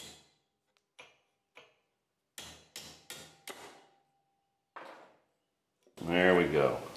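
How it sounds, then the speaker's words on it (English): A chisel is driven against an old seal on a Dana 60 axle, giving about eight sharp metallic knocks spaced unevenly. Someone speaks briefly right after the strikes. "I'm just using a chisel."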